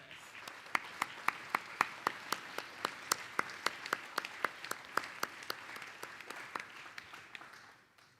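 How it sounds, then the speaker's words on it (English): Applause at a bell ringers' annual general meeting, steady clapping from a modest roomful of people with one or two close, crisp hands standing out, fairly quiet and tapering off at the end. "let's give them a big round of applause for their service"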